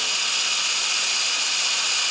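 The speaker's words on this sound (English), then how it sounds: "So I went in with this little drill bit here." A power drill runs with a small greased bit, working on a wrecked Kawasaki Ninja motorcycle being rebuilt; the close, steady, bright whine holds even for two seconds with no pauses.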